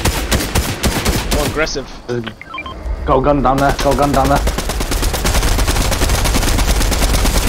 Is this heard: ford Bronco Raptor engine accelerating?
no